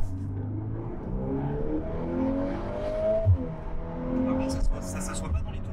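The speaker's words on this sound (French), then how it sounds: "je tire la palette, je freine" Volkswagen Golf 8 R engine drone from inside the cabin as the driver pulls the shift paddle and brakes, harmonics stepping through a downshift with a brief blip, under quiet talk.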